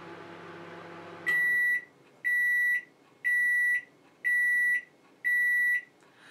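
A Morphy Richards Accents microwave beeps five times at the end of cooking. The beeps are loud, evenly spaced and high-pitched, and follow the low hum of the oven running.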